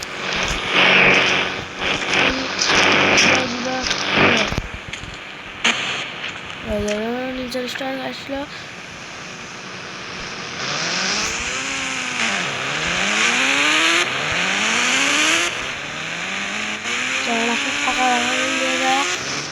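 A motorcycle engine in the Indian Bike 3D game starts and revs loudly, its pitch sweeping up and down in repeated rising and falling surges, with a person talking over it throughout.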